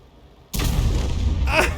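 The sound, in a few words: tank gun shot in a video game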